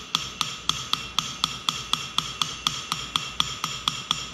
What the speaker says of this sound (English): now I'm trying to be consistent, and I'm trying to lay those hammer blows right on top of one another.